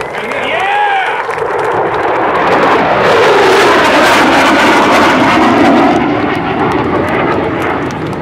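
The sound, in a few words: F-18F Super Hornet jet flying at airshow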